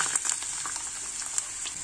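A chopped onion sizzles and crackles in hot vegetable oil, a close, steady frying hiss with occasional light pops.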